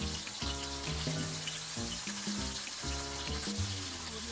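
Slices of elephant yam fry in oil with a continuous soft sizzle and hiss, heard faintly beneath a steady background melody.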